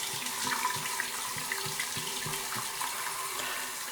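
Water poured over an outdoor SONOFF IP65 plug enclosure, a steady splashing wash with irregular patters as it hits the plastic case, close and continuous with no voices.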